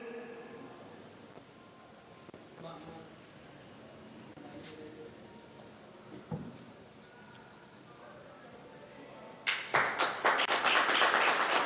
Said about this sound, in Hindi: जोरदार ताली आदरणीय दर्शकों द्वारा बजता हुआ